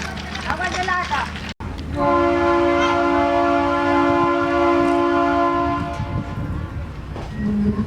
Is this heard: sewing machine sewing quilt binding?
no